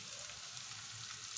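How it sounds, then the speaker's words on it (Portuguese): Calabresa sausage frying in oil with bacon in a pan, a steady close hiss and crackle of sizzling fat, continuous and unaccompanied by voices. "Agora estamos fritando a calabresa."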